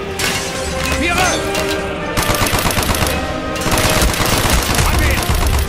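Intense gunfire in a World War 2 shooter game, loud bursts of machine-gun and rifle shots in rapid volleys, with soldiers shouting over the battle.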